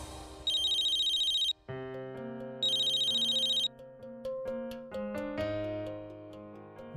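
An electronic phone ringtone plays a melodic jingle, with two bursts of bright high chiming tones among a sequence of musical notes, loud and close.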